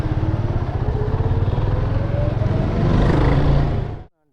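A motorcycle ridden along a Kerala road toward Vayalada, its mid-pitched engine droning steadily and close, swelling louder near the end before cutting off abruptly; no voices.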